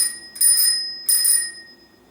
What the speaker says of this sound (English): and he rings a bell just like this.